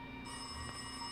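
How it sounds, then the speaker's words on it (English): An old-style phone rings in the horror video game Mirror, Mirror, giving a steady, faint bell tone over a constant background hum, brief and with no one speaking. "Phone's ringing."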